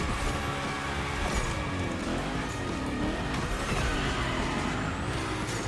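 Engine and tyre noise from a car sliding through a Gymkhana run in The Crew Motorfest racing game, a continuous loud roar with shifting pitch as the car drifts, with no talk over it.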